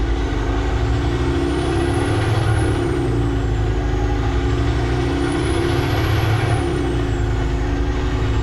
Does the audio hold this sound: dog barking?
no